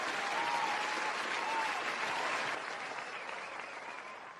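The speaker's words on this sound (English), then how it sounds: "Hit the applause for the front office." Broad, steady applause fills the room for the front office, a dense wash of clapping from a sizable crowd that holds evenly and then eases slightly, with faint voices beneath.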